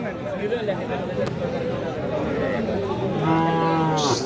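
A bull calf lows in a drawn-out moo near the end, over a steady background of crowd chatter and several people talking at a cattle market.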